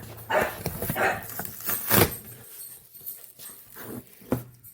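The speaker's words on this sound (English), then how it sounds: "Let's excuse my dogs playing in the background." Dogs playing indoors during a product unboxing, with scattered scuffles, thumps and a few short yips or barks at irregular intervals, fairly faint and in the background, no speech.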